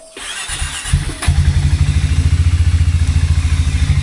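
A motorcycle engine cranks with a brief clatter, catches, then settles into a loud, steady thumping idle right up close, before a long ride; no voices.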